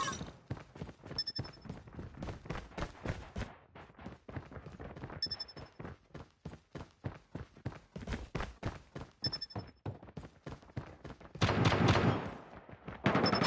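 Rapid gunfire from a Call of Duty Mobile match, bursts of sharp automatic shots crackling in quick succession, near and loud, with a louder rush of noise near the end.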